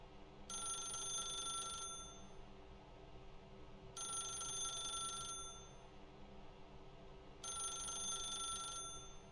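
A telephone rings three times in the video game Stanley Parable Ultra Deluxe, each ring a bright electronic burst of about a second and a half separated by quiet pauses over a low hum.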